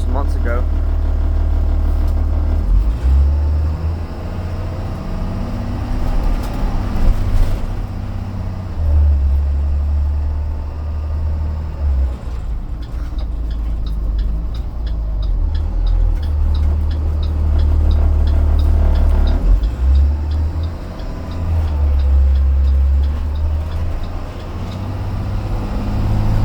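A 2020 IC CE school bus drives along with its engine running, a steady low rumble that swells and eases with throttle throughout, while passengers talk over it.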